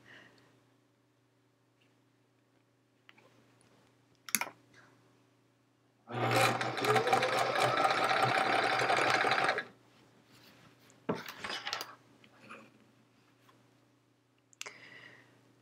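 A sewing machine stitches a quilt top for a Charming Chevrons quilt, running in one steady burst of about three seconds, with scattered clicks and handling sounds before and after.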